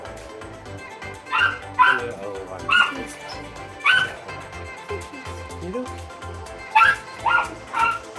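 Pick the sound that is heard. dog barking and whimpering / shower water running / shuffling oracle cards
dog barking and whimpering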